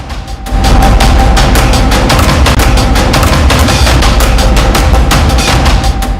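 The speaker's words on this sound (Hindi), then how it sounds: "जमीन विवाद में 2 पक्ष आपस में ही उलझे और 30 राउंड गोली चलाई गई" Rapid gunfire in a land dispute in a village, about thirty rounds, as a dense, loud stream of sharp cracks repeating in fast irregular bursts over several seconds with heavy distorted low rumble.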